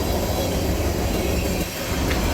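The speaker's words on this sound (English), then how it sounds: "M634 has racks, a small manifest block, and trash cars heading out east." A CSX freight train with autoracks, a small manifest block and trash cars rolls steadily past, a loud continuous rumble of wheels on rail with a brief squeal near the end.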